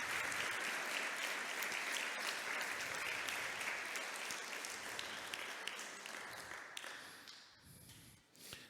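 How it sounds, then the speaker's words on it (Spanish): Applause from a church congregation during a sermon, a dense, sustained roar of many hands that gradually thins and fades toward the end, leaving a few scattered claps. "Denle un aplauso al Señor por eso."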